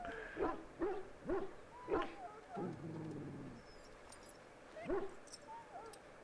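Dog whimpering and yelping in Dragon Age: Origins, a few short high cries in a quick row then another later, over quiet game ambience with a brief low rumble in the middle.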